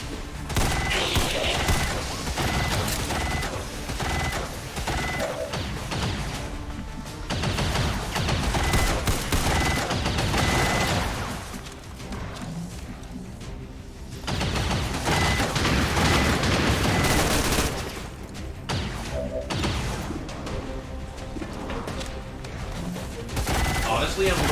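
Gunfire in XCOM 2 comes as loud, sustained volleys of rapid shots and mechanical clatter. The bursts break off for short lulls before opening up again, and voices can be heard in between.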